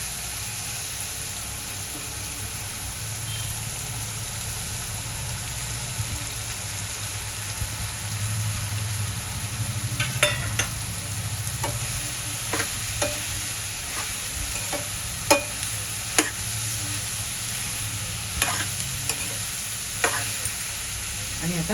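Green beans stir-fry with softened onion in a pan, a continuous low sizzle broken from about halfway by sharp scraping and clatter as a utensil turns them.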